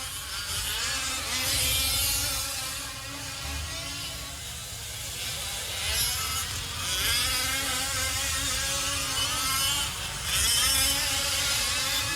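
Fifth-scale M18 4WD Pro Truck RC trucks racing down a straightaway at a world championship race, engines buzzing and whining continuously, rising and falling as several trucks pass at varying distances.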